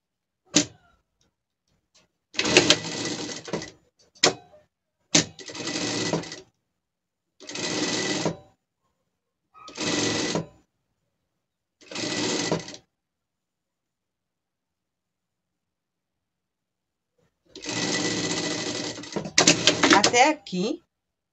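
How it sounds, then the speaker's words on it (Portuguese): A sewing machine runs a safety seam on a stuffed toy monkey in short, evenly spaced bursts of whirring stitching separated by silent pauses, with a longer run at the end. "Aqui a gente vai passar uma costura de segurança aqui"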